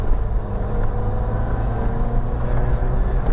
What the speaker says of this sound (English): Now we're heading off for a little drive in this Escort.